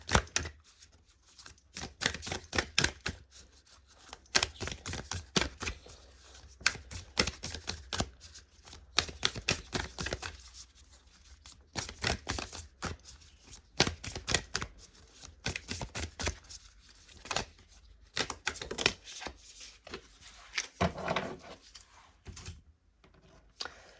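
Tarot cards are shuffled and drawn by hand: a long run of crisp, rapid flicks and clicks, close and fairly quiet, with brief pauses and no voice.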